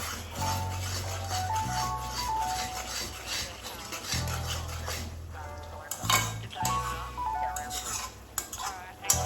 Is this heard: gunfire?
no